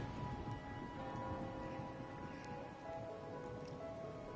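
Steady rain pattering on surfaces during a rainy-night story quest in a video game, soft and continuous with faint distant rumbles and no voices.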